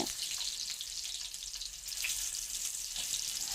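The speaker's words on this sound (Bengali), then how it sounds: "পটলগুলোর দুপিটি আমি ভালো করে ভেজে নেব একটু ব্রাউন না হওয়া পর্যন্ত" Pieces of pointed gourd (potol) fry in a pan with a steady, moderately close sizzle, broken by soft scrapes as they are stirred.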